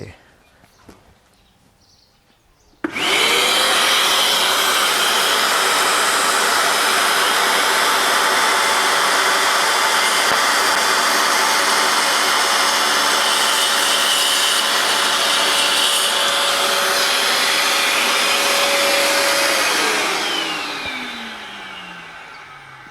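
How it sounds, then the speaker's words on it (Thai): A DeWalt DCS571 circular saw with a multi-material blade cuts a fiber cement board about one centimetre thick, a dust vacuum attached. It starts abruptly, then whines loud and steady for about seventeen seconds before winding down. "ขอต่อเครื่องดูดฝุ่นกัน เพราะว่าไฟเบอร์ซีเมนต์นี้ ฝุ่นมหาศาลเลย"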